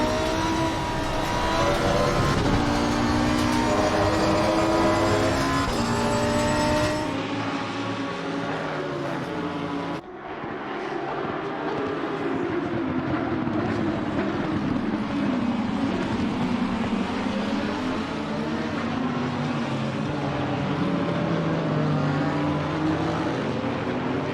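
Race car engines in Assetto Corsa at Silverstone, a loud continuous whine from the player's car with shifting pitch as another car runs alongside, one brief dip at a gear change.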